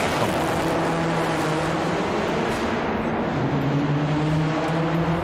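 A manual Audi RS4 B7 with a 4.2 V8 drones steadily and loud, its pitch holding and then dropping slightly, with no talk over it.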